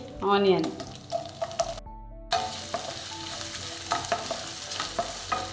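Dried red chillies and chana dal frying in oil in a pan, with a continuous close sizzle and stirring clatter, briefly cut by a short silent gap before the frying resumes.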